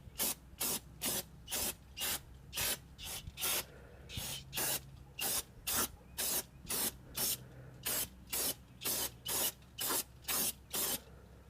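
Aerosol brake cleaner sprayed in a long run of short, regular bursts onto a brake caliper during a front brake service on a 2014 Nissan Frontier, each hiss close and loud with brief pauses between.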